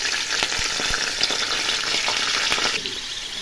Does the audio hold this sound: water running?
no